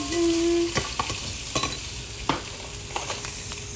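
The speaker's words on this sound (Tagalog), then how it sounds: "Tapos, haluin mo." Parsley and mustard sauce for butter shrimp stirred with a utensil, giving a string of sharp clinks and scrapes against the pan over a steady low sizzle, with one brief tonal squeak near the start and no talking.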